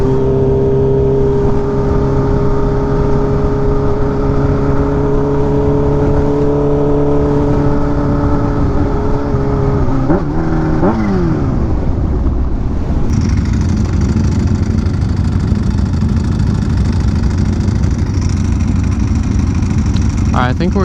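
A Kawasaki Ninja H2 motorcycle engine drones loudly and continuously while being ridden. Its pitch holds steady, then drops sharply through a shift partway through, and wind rush runs underneath.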